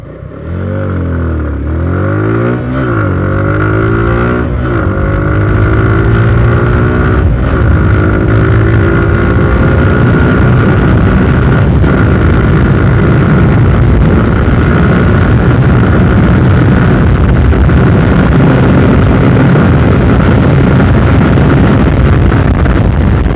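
Suzuki Gixxer SF motorcycle accelerating hard from standstill toward 100, engine climbing through several gear changes with rising and dropping pitch, then a steady loud drone with wind rush, close and alone without talk.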